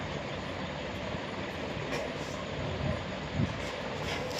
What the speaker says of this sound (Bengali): প্রথমে ক্যাপসিকাম আর গাজরটাকে ভেজে নেব।